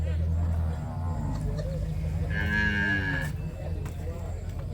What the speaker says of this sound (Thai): ตลาด โคกระบือนี่